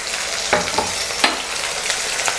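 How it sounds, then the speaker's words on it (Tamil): Onions for wheat upma sauté in a pan, giving a close, steady sizzle broken by several sharp stirring scrapes. "இப்போது வெங்காயம் வதங்கிட்டு இருக்கையிலேயே பார்த்தீங்கன்னா"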